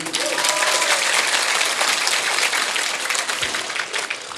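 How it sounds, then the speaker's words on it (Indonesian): Loud, dense clapping from an audience applauding the santri, Islamic boarding-school students, at a lively sermon gathering, sustained and even throughout with faint voices mixed in. "tepuk tangan untuk para santri"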